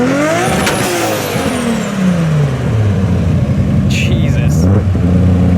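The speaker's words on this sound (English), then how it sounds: "Go ahead and give us a rev." A carbon-fiber Nissan Skyline GT-R R33 engine revs up loudly up close, with the tone climbing and then falling back as it winds down, while voices talk over the rumble.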